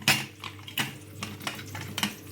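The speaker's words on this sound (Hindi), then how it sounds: "इस कुकर की ढक्कन को हम लगा देंगे इस तरह से" A metal pressure cooker lid is fitted on while cooking Bihari litti, producing a few close clanks and light metallic rattles spaced irregularly.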